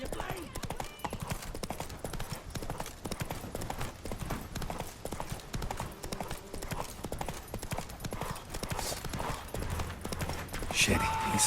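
Roach the horse galloping in The Witcher 3: rapid, steady hoofbeats pounding throughout, close and loud, with voices speaking over them.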